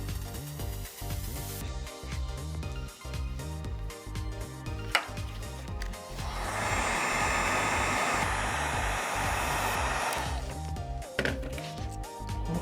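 A heat gun shrinks heat-shrink tubing over crimped wire connections while wiring a hydraulic diverter valve on a mini skid steer. It blows a steady, close airflow roar that swells louder midway, with a few handling knocks and no speech.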